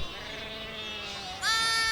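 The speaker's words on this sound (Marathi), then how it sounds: "मी मल्हारीला आणि मेंढ्या घेऊन वर जातो डोंगराकडं" A sheep bleats with a wavering, nasal cry, fairly close, ending in a louder, higher rise.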